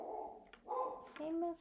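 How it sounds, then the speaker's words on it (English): A pet dog indoors gives two short, tonal barks or yelps at moderate distance. They are fairly faint, and a voice speaks nearby. "My doggie's like, I must bark."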